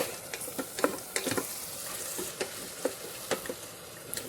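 A tablespoon of garlic sizzling in an Instant Pot while being stirred, with steady frying hiss and frequent utensil scrapes and taps close by, no talking.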